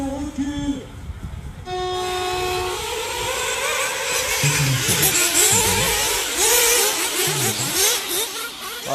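Race cars starting a race at the Agathoise, a loud horn-like tone giving way to a surge of engine noise with rising and falling revving as the cars pull away, a voice speaking over it.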